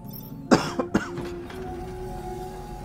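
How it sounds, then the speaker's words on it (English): Someone coughs two or three times, the first cough the strongest and the rest fading. The coughs are close and clear over a low electronic hum from the game Dungeon of the Endless. "I don't know why I'm coughing now"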